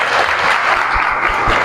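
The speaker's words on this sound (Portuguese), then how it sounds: "Uma salva de palmas para os vereadores" A crowd applauds the city councillors at a student demonstration, loud, continuous clapping that fills the whole short moment without letup.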